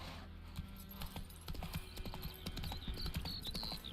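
Horse hooves clip-clop on a road in The Witcher 3, a fast, irregular run of sharp knocks close by, with a brief whinny partway through and faint game ambience beneath.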